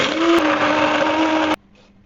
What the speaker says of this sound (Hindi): मैं इसको हैंड ब्लेंडर की मदद से अच्छे तरीके से